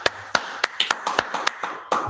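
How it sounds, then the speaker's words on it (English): An audience at a Wednesday night class claps along, about a dozen sharp, close hand claps in a loose, uneven rhythm over two seconds, with brief gaps between them. "let's clap it up"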